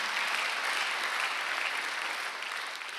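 A church congregation at a Sunday worship service breaks into sustained applause, an even wash of many hands clapping throughout, with a faint crowd murmur and no clear speech.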